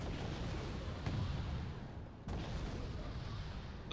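Artillery and mortar fire in the real-time strategy game Wargame: Red Dragon, a dense continuous rumble of distant booms with a couple of sharper blasts standing out.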